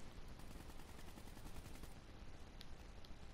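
Video-game gunfire crackles in a dense, continuous stream of rapid automatic shots, faint and steady throughout with no talk over it.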